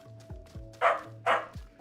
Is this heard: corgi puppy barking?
yes